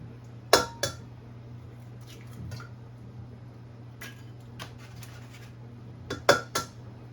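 Eggs for a crustless kale quiche are cracked against a bowl, giving a few sharp, close taps spaced out over quiet background hum.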